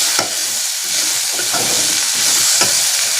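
Ginger-garlic paste with turmeric frying in a pan while being stirred, a continuous close sizzle broken by a few scraping strokes of the spoon, with no talking.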